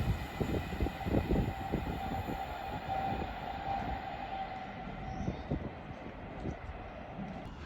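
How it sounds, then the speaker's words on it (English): A Class 390 Pendolino electric train bound for Chester passes through Watford Junction on the West Coast Main Line. A loud, sustained rumble with rhythmic wheel clatter is joined by a steady high whine, close and continuous throughout. "getting ready to pass by now is going to be another Class 390 Pendolino, this time bound for Chester"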